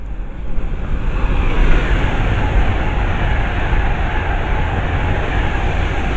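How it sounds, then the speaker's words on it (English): A Pride-liveried Pendolino train rushes past at Harrow & Wealdstone station, a loud, steady roar of wheels and air that swells slightly early on and holds for several seconds, with no voices. "The next train to pass by is a Pride Pendolino."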